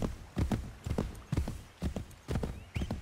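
A horse trots in Assassin's Creed III, its hooves clip-clopping in a regular rhythm of paired beats, close and clear, with no talking over it.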